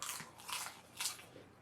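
Someone crunching popcorn close by, producing a few short, quiet bursts of crisp crackling bites spread across a brief stretch with no talking.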